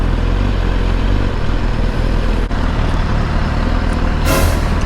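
Heavy truck and bus traffic rumbling through Times Square in Manhattan, a loud continuous low drone with a brief hissing burst near the end like an air brake release.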